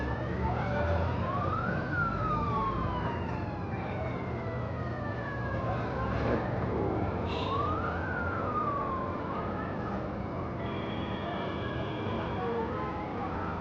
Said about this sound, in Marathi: सायरनच चालू झाला अचानक तिथे.